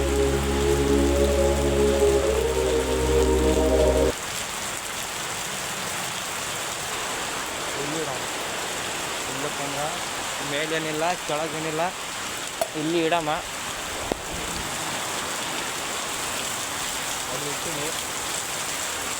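Steady rain pours down outdoors while a cup is set out to catch rainwater, a dense even hiss that runs through the clip after a short, loud tonal burst at the start, with people talking over it.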